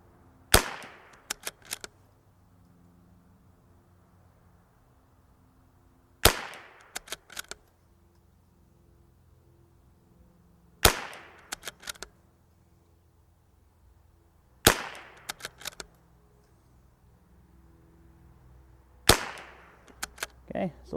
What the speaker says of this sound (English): This is regular TAC 22. And we're just going to shoot at target number 4.